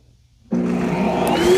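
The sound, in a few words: Shark Matrix robot vacuum docking station auto-emptying dust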